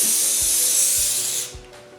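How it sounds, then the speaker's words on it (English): An aerosol can sprays a generous coat inside a burlap charger in a steady, loud hiss for over a second, then cuts off, with a few soft clicks underneath. "I'm going to spray the inside."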